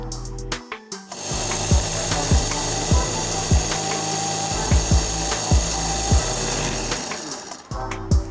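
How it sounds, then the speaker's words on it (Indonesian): Spice paste for a steamed mackerel dish being ground in a blender, a steady motor whir with repeated knocking and thudding as chunks strike the jar, running continuously for several seconds. "Ini saya masukkan bumbunya untuk kita haluskan."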